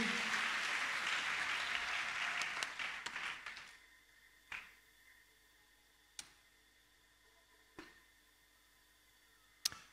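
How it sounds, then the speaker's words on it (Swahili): Applause from a congregation at an Easter church service: dense clapping fills the first few seconds and then fades out, leaving a few sharp isolated taps in near silence. "Pigie tena Bwana makofi mengi."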